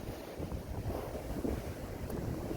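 Strong wind south of Tehachapi on the Pacific Crest Trail, a steady loud rushing buffet with gusty swells and microphone rumble, no voices.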